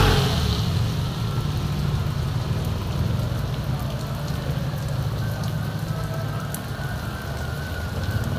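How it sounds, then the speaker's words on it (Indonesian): Heavy midday rain pours steadily around the eve of the new year, a dense continuous hiss of falling water that stays even throughout, with faint background noises and no talking. "Jadi ya, oh, hujannya gede."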